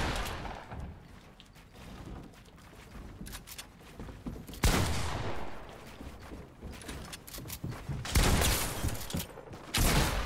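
Heavy shotgun blasts in a video game crack out in a few loud, booming bursts spaced across the scene, each trailing into rumbling echo, with quieter gunfire and clatter between them.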